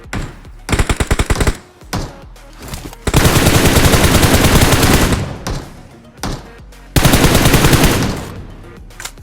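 Automatic gunfire in the battle royale game BGMI, in loud, close bursts: a rapid stuttering volley, then two long sustained sprays separated by brief quiet gaps.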